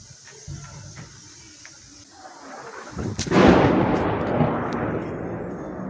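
A heavy explosion from shelling in Nikopol booms nearby, followed by a long, rolling rumble that keeps echoing; a fainter thud is heard before it.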